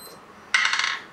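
A phone sounds a short, bright metallic chime, set off by a button press on a Cookoo smartwatch. It is a single clear tone burst after a brief quiet lead-in, close and moderately loud.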